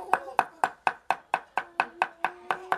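Duck meat chopped with a cleaver on a board, a dozen evenly spaced sharp thuds in steady rhythm, close and clear with no talk over them.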